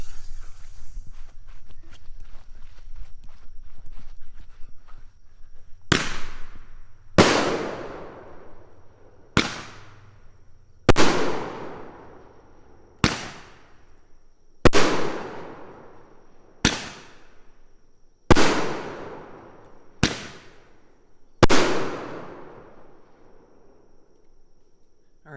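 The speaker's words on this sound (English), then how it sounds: "Okay, the next one we got is this Roman candle here, this magic light. And yeah, here she goes." A Roman candle fires about nine sharp pops at steady intervals of a second or two, each a loud burst with a decaying hiss and crackle, on a Fourth of July night outdoors.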